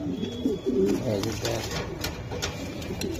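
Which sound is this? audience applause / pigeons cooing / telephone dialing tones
pigeons cooing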